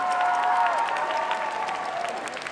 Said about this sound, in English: can we all give a resounding golf clap for both of these amazing cosplays?